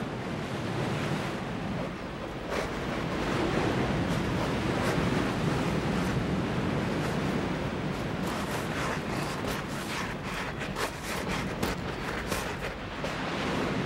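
Steady surf rolls onto a Florida beach, a continuous broad wash of breaking waves with wind buffeting the microphone, loud and unbroken throughout with no voices.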